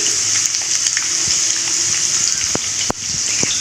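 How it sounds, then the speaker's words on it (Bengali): Paneer fries in hot ghee in a wok, giving a continuous loud sizzle with a few sharp clinks of a utensil against the pan. "তো এই যে দেখো এখানে আমি পনিরটাকে ভেজে নিচ্ছি"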